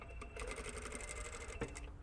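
Sewing machine stitching a shirt hem, folded in a small double roll: a close, rapid, steady mechanical chatter of stitching runs throughout without a pause.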